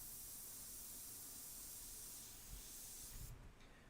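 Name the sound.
spray bottle spraying on a painting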